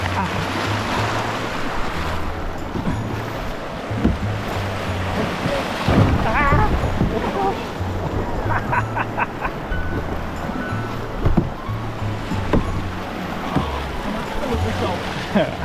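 Kayak pushing through choppy rapids on the Ardèche river near Pont d'Arc in France, loud steady rush and splash of rough water with wind buffeting the microphone, people talking and exclaiming over it.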